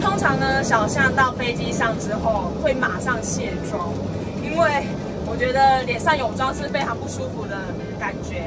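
Steady low engine roar fills an aircraft cabin throughout, with someone talking over the constant drone.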